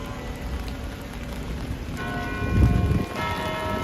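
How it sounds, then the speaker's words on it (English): Church bells ring out in New York City over a steady patter of rain, their tones sustained and layered, with a swell of louder clanging near the end. "Church bells started ringing, and they're ringing again."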